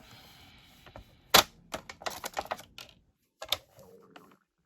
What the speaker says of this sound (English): I'm going to cut this down a little bit.